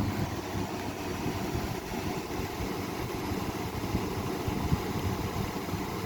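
A Galaxy Wind Machine model 3521 fan runs on medium with a steady, dense whooshing drone and an annoying rattle, heard up close and without pause.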